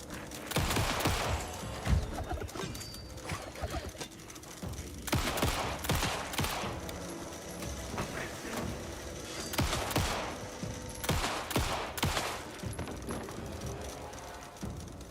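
Repeated gunfire in Alan Wake 2 at the lake house, clusters of sharp shots and bursts spread over fifteen seconds with quieter gaps between volleys.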